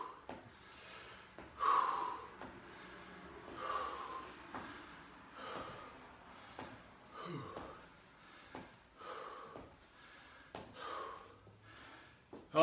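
Heavy, rhythmic breathing, with loud gasping inhales and snorting exhales, is heard during a workout cool-down. The breaths repeat every second or two, close and fairly faint, over a low background.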